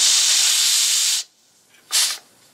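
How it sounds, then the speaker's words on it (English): Steam hisses loudly from a pressure cooker being checked after cooking chicken, a sustained sharp rush that cuts off abruptly, followed by a short second burst after a brief pause. "Let's see if we've still got steam build up in there."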